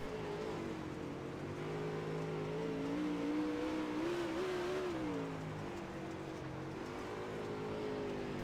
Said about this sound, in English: let's go back and take a look at the onboard shot here of Grant Riles. This is looking at the back of the 16 car